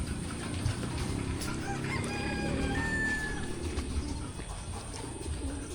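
Birds calling near a racing pigeon loft with several short chirps and warbles over a steady rumbling background, moderately near and fairly faint, no talk.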